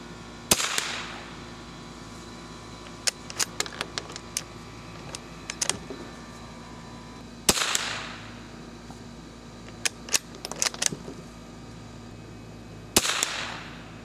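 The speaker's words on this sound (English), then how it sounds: "we're going to shoot the target on the far right first. This is using CCI standard velocity." Remington Model 582 rifle firing CCI standard-velocity ammunition at a range, three sharp close shots spaced several seconds apart, each followed by smaller clicks and clatter of the action.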